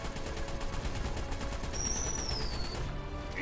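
Rapid gunfire bursts from a video game, a dense crackling volley that runs steadily throughout, with no voices over it.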